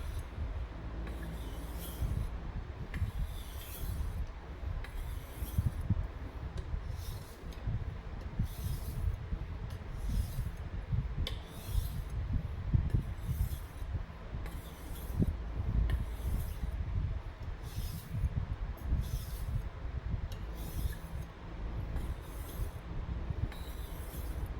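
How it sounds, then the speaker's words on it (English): A VG10 steel knife blade is stropped after sharpening, with a steady run of repeated swishing strokes in an even rhythm, close and fairly loud throughout, with no voices. "I'll straight go for just the stropping methods."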